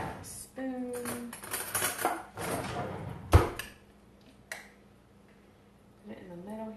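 Pancake batter for keto pancakes spooned into a pan and spread out, with a sharp metal clack of the spoon against the pan and softer scraping and tapping around it, close and fairly loud.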